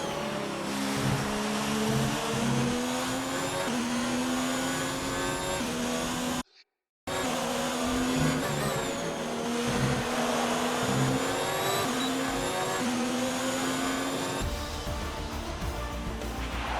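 A Formula 1 car engine in the F1 2019 video game whines loudly and continuously, its pitch rising and falling through gear changes, with one brief cut to silence partway through.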